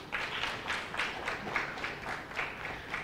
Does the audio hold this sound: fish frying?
no